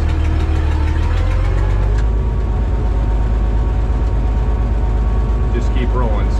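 A Minneapolis Moline A4T tractor rolls along in fifth gear without braking, its engine laboring in a steady, close, mid-pitched chug that stays loud and continuous throughout, with a voice speaking over it.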